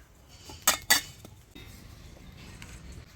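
A metal tiffin bowl is greased with a little oil: two sharp, close metallic clinks ring out in quick succession, then only faint handling noise and quiet room tone remain.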